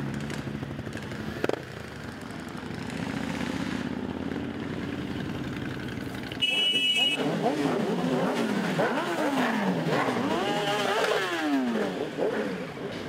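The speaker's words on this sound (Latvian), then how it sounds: "augusta pēdējā sestdienā rāmo mazpilsētas mieru pārņem jaudīga motoru rūkoņa" Powerful motorcycle engines rumble at the Seeburg Bikerland biker festival in Grobiņa, Latvia. A steady low drone gives way to loud, close revving that rises and falls in repeated surges, with some talk heard early on.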